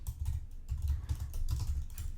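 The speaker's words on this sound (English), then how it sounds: "because I'm on a keyboard" Rapid typing on a computer keyboard, close and continuous, with quick clustered key clicks and soft thumps running throughout without talk.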